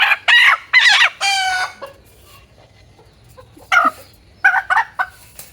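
A village rooster of a local breed crows loudly nearby, a long full call followed by shorter crows and clucks, with quiet gaps between.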